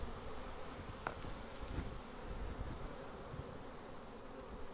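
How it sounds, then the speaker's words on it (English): Honeybees buzz faintly around an opened hive, a soft continuous hum with a few brief closer passes, no voices. "Get all the bees off of there."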